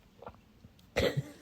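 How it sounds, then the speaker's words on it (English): A person coughs once, short and fairly close, after a few faint soft sounds in a quiet room. "someone was sitting behind them coughing away"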